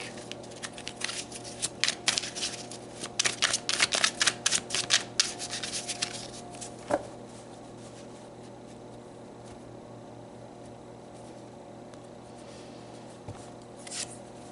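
Tarot cards being shuffled by hand, a quick run of crisp riffling flutters and slaps that stops after a few seconds, followed by a single tap and then a quiet room with faint hum.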